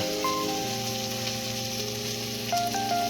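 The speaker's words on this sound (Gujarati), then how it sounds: "આ ભાજી વઘારીએ છે" Greens for bhaji hitting hot oil for tempering, a continuous loud close sizzle and crackle filling the whole moment, with a faint tonal hum underneath and no talking.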